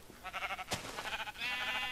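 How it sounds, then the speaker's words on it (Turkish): A sheep in Minecraft bleats in a quick wavering stutter as it is hit, followed by a short thump and a brighter second game sound, all faint and without talk. "Şu an koyuna vuruyoruz ve öldü."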